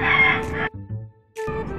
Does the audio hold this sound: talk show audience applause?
no